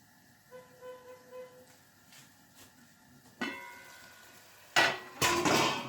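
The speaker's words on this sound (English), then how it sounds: "now we stir it again" Chicken curry being stirred in a pot: a few soft scrapes, then louder clanking of a utensil against the metal pot near the end, close by in a quiet kitchen.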